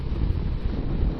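Steady wind buffeting the microphone, a low continuous rumble with gusty fluctuations throughout, no voices.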